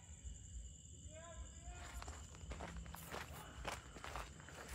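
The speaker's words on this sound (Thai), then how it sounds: "เป้ใครเดินอยู่นั้นน่ะ" Footsteps moving through a forest at night, quiet and close, crunching steadily across the ground with faint background noise.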